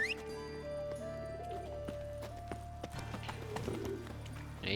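Roach, a horse in The Witcher 3, galloping with steady clip-clop hoofbeats under a game music bed, close and moderately loud, with a brief whinny near the end.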